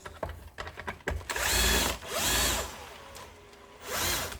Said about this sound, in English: I like to use an electric screwdriver.